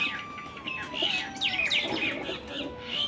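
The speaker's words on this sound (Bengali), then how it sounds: "গাছে না শালিক এসে ভরে যাচ্ছে এর জন্য ক্যাচর ম্যাচর ক্যাচর ম্যাচর" A flock of common mynas gathers in a tree and chatters with quick overlapping chirps and whistly calls, busy and close, rising and falling over a few seconds.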